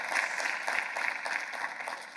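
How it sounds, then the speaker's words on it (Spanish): Applause from a conference audience after a talk on exosomes in regenerative medicine, a dense steady crowd clapping at moderate level for the whole stretch with no voices over it. "Fuerte aplauso y merecido."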